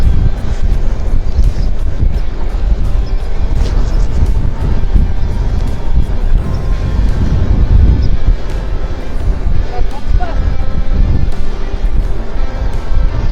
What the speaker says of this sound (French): On va être un peu face au vent